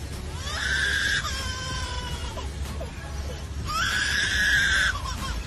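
A lyrebird mimics a crying baby in two wailing bursts separated by a short pause, the cries loud and close over a steady background hiss.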